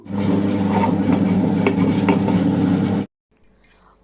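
A wet grinder churning soaked fenugreek for idli batter makes a steady, loud whirring rumble with faint clinks, then cuts off abruptly, leaving a few soft handling sounds.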